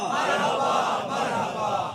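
Crowd at a religious gathering chanting the Amad-e-Mustafa slogan in unison, a loud sustained chorus of many voices filling the space.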